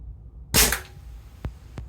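A JSB Ultra Shock heavy pellet from an air rifle striking a clay target: one sharp, close smack followed by two faint short ticks.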